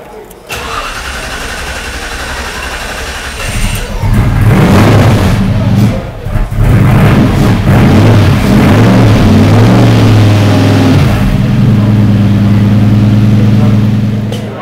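A Noble M600 supercar engine cranks, fires up loudly and revs hard several times before settling into a deep, rumbling idle, close and dominant.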